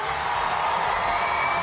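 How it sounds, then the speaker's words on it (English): A crowd cheers at the STIHL Timbersports U.S. Men's Pro Championship, a steady, unbroken roar of many voices filling the whole moment. "Keep cheering, keep cheering, keep cheering."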